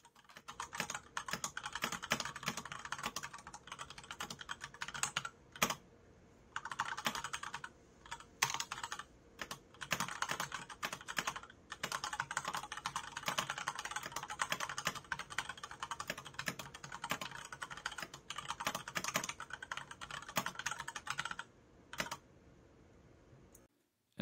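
Rapid typing clatters on the keyboard of an e-ink typing device, a dense, close stream of keystrokes with brief pauses between bursts, sustained throughout with no voices.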